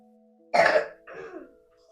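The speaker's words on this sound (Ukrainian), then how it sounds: "Кашляй." One harsh cough followed by a shorter throat clearing, close and loud against near silence, during a women's yoga session.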